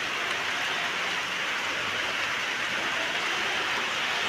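Heavy rain pours down in a dense, steady hiss, constant and close throughout with no voices.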